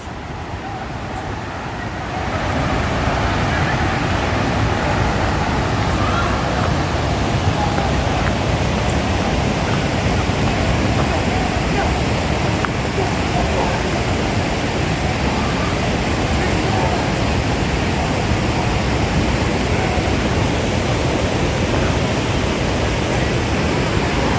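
A steady, dense roar of rushing water fills the whole clip, constant and loud, like a waterfall close by, at Willow River State Park.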